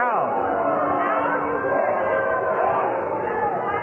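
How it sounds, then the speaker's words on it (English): A minor-league baseball crowd at a Cedar Rapids Kernels home game against the Clinton LumberKings fills the air with a dense, continuous murmur of chatter and cheering, close and lively throughout. "Listen to the crowd."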